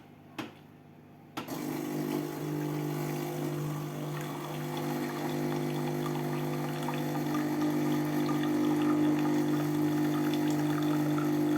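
An espresso machine pumps and pours coffee, a steady humming drone with liquid trickling that starts abruptly after a brief quiet moment and continues evenly, close and moderately loud.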